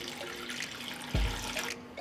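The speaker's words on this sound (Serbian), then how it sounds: "I zatim ću sipati vodu u šerpu do visine poklopca." Water pours from a tap into a pot holding a cloth and jars, a steady splashing rush with a sudden louder gush partway through, close by and with no talking.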